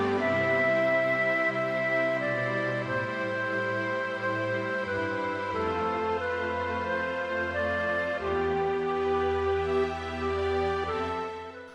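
A string ensemble plays the opening four bars of an arrangement, with sustained voiced chords that shift smoothly from one to the next at a steady, soft level, with no talking.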